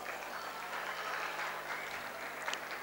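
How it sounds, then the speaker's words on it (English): An audience at a school annual day function applauds a principal, producing a steady, moderately loud wash of clapping that holds evenly for a few seconds. "Give him a big round of applause"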